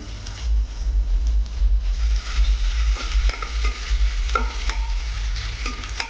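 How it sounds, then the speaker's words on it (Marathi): Crushed garlic stirred in a hot pan while cooking an aloo matar veg pulao, a steady close sizzle with repeated scrapes and clinks of a spoon against the pan, over a low background hum. "छान हलवून घ्यायचं"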